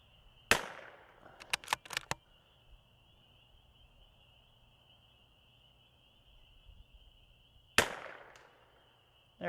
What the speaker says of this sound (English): All right, we'll shoot one more.